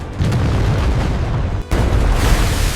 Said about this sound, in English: sometimes, the torpedo is too smart, too fast, and it hits